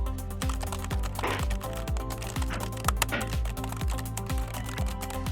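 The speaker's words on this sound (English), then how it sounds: "just type, "Convert this into PDF."" Rapid keystrokes on a computer keyboard typing a short request into ChatGPT, a steady run of light clicks over a backdrop of rhythmic background music.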